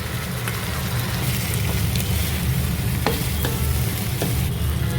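Roasted ground masala paste fries in ghee for paneer roast, a steady close sizzle that never lets up, with a few light clicks of stirring throughout.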